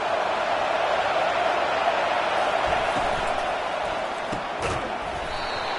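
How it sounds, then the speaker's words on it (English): A packed stadium crowd roars at a college football game, Rice against Eastern Michigan: a loud, steady, dense wall of voices for the full stretch, with a few brief thuds and shouts rising out of it. "This crowd, full throat, splitting the eardrums and letting them know it's going to be a long day."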